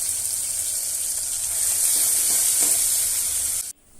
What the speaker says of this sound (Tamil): இப்போ தக்காளி நல்லா வதக்கி எடுக்கலாம்